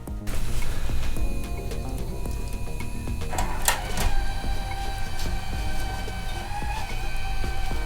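A Power Mac G4 Cube DVD drive whirs and grinds as it tries to eject a stuck disc, a steady close mechanical hum with clicks and a sharp clunk partway through.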